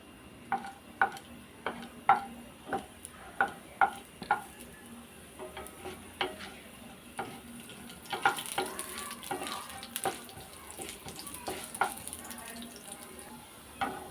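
Urad dal frying in a pan for chutney, with a run of sharp stirring clinks against the pan at first, then a steadier low sizzle with scattered scrapes, close and fairly quiet.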